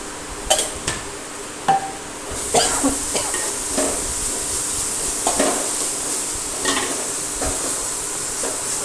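Food stirred and mixed in a frying pan for a karela vegetable dish: continuous sizzle with repeated sharp scrapes and knocks of a spoon against the pan, close and fairly loud.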